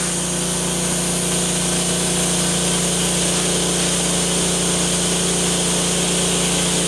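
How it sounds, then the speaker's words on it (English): A die grinder fitted with a wire wheel polishes exhaust pipes, giving a loud, continuous whining drone with a steady hum underneath. It runs unbroken throughout and no one speaks. "All this stuff in here, you have to use a wire wheel on your die grinder."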